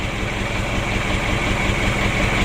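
A cold diesel engine idles steadily right after starting, a loud close low rumble with an even rapid knocking pulse and no talk over it.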